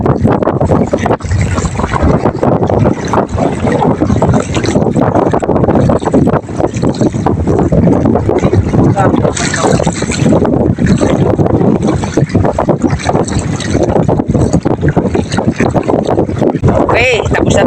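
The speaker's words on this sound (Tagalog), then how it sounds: "Malakas ang alo." A loaded boat rides rough, wavy sea, with constant loud wind buffeting and water rushing and slapping against the hull throughout, dense and unbroken, while people talk over it.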